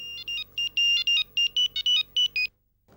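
A phone's electronic ringtone trills in a run of rapid, evenly spaced beeping bursts for about two and a half seconds, fairly loud and close, then stops short.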